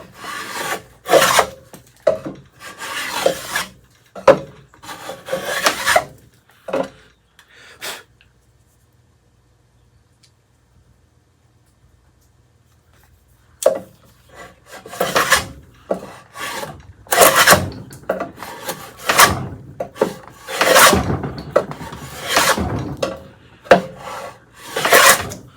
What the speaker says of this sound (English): I think I've decided that this is a coachmaker's router